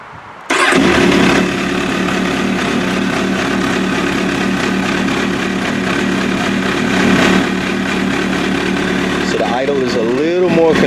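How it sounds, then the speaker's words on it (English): An MV Agusta F4 motorcycle engine starts after a brief silence and settles into a steady, loud idle after throttle body synchronization, running continuously, with a few revs rising near the end. "So now I'm going to start the bike, let you guys hear how she sounds idling now."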